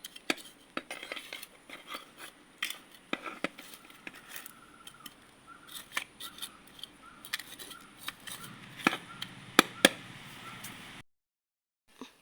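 Loosening the soil around a potted bougainvillea by hand: close metallic scrapes, clinks and crunchy digging strikes come in irregular bursts, growing denser toward the end before stopping abruptly.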